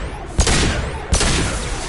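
Two sharp gunshots about three-quarters of a second apart ring out in the Mass Effect Legendary Edition video game, each a loud broadband crack over steady background game noise.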